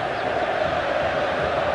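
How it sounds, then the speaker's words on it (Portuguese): Grêmio supporters in a stadium crowd celebrating a goal, a dense continuous roar of cheering and chanting, loud and unbroken. "Não se cansa de comemorar o gol do Grêmio,"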